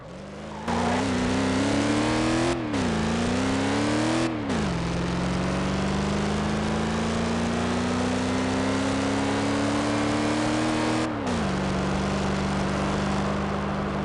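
A V8 ute accelerates flat out toward top speed, its engine note climbing steadily with several brief gear-change dips before settling into a long, loud, sustained drone.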